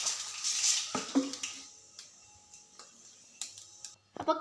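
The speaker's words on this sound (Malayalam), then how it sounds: "കടുകൊന്ന് പൊട്ടട്ടെ." Mustard seeds pop and crackle in hot oil during home cooking, giving scattered sharp ticks and small bursts with quiet gaps between them, fairly close and with no talking.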